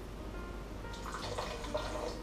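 A small splash of spiced cooking wine poured into a pot, heard as a brief, soft liquid trickle and gurgle over a steady low kitchen hum, close and faint, with no talking.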